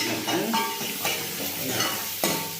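Onions fry in a pan with a continuous sizzle, and a utensil scrapes and stirs through them about four times, each stroke a short raspy sweep close by; no one speaks.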